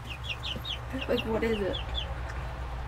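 Small chickens on a horse farm cluck and chirp in quick repeated bursts, fairly close against a steady low background hum, while a person briefly talks.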